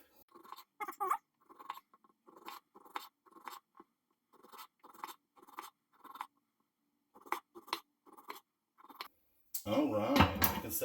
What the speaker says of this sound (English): I like to use a serrated knife.